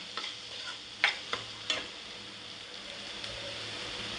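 Fenugreek greens (methi bhaji) stirred in a pan, with a few distinct scraping clicks of the spoon against the pan over a faint sizzle, close and moderately quiet.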